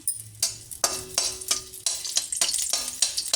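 Garlic frying in a pan, with a sizzle broken by repeated stirring scrapes at an irregular, quick rhythm, close and moderately quiet, with no talking.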